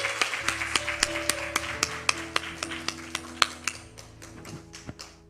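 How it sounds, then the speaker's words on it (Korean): Korean church congregation at a prayer-school service clapping in a steady rhythmic beat, sharp regular claps over sustained organ or keyboard chords, slowing and spacing out near the end. "크게 박수하시겠습니다"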